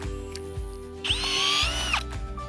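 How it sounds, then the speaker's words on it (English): A power drill fitted with a Bekaert drill chuck whirs in one loud burst lasting about a second while twisting a wire tie on a high fence, with steady motor hum and a few clicks before and after. "Use the Bekaert drill chuck,"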